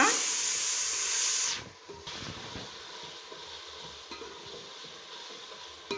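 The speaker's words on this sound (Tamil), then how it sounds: "இது வந்து ஒரு முப்பது செகண்டு வதங்கட்டும்" Ginger garlic paste and slit green chilies sautéing in a pan: a loud hissing sizzle for the first moments that drops to a softer, steady frying crackle, close by.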